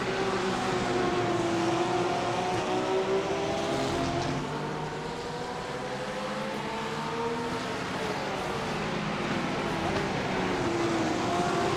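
A GT3 race car drives at the limit around Circuit de Barcelona in a racing sim, its engine a loud steady drone with tones rising and falling as revs shift, with no speech.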